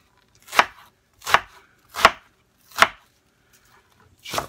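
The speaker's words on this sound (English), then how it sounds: "chop it up just like so." A knife chops through a big chunk of food on a board in five sharp, evenly spaced thuds, loud and close, with near silence between strikes.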